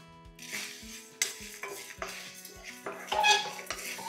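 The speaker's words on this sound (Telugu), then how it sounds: "సో ప్యాన్ పెట్టుకున్న తర్వాత ప్యాన్లో ఎండుమిరపకాయలు వేస్తున్నాను, అలాగే కాస్త మినప్పప్పు, ధనియాలు. ఫస్ట్ వీటిని మంచి డ్రై రోస్ట్ చేసుకుందాం." Red chillies, urad dal and coriander seeds dry roasting in a pan for a spicy egg pepper fry, with repeated clinks and scrapes of a utensil against the metal pan and a faint dry rustle of the spices between strokes.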